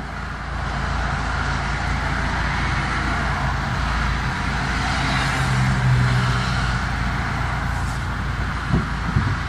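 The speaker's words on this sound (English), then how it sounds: "Traffic." Steady road traffic with a continuous low rumble of passing cars and trucks, heard from inside a vehicle with an autostick transmission, even and unbroken throughout without talk.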